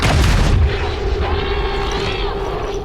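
A bolt caster fires in the video game XCOM 2, one loud booming shot up front whose heavy tail rings out and fades over the next couple of seconds.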